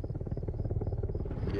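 A steady rhythmic chopping of helicopter rotor blades in the video game Arma Reforger, a low pulsing drone that holds even and moderately loud throughout.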